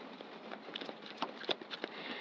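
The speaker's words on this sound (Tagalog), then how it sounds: "sana naririnig nyo kasi lumalakas yung ulan" Heavy rain pattering steadily at close range, with scattered louder drops and crackling splashes standing out over a dense, continuous hiss.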